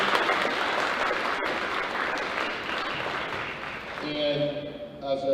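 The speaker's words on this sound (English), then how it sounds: "Give yourselves one last big round of applause." A school audience at a Grade 11 academic awards ceremony gives a long round of applause, dense clapping that fades near the end as voices and other sounds take over.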